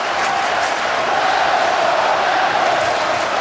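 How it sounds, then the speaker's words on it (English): A hockey arena crowd at a New York Rangers versus Detroit Red Wings game roars in a dense, sustained wash of cheering that holds steady and loud throughout. "The crowd is into it now."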